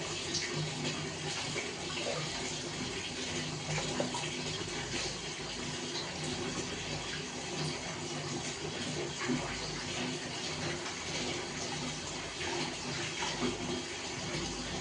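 Water runs steadily and drains away without a break, a continuous close rushing and gurgling wash heard on its own.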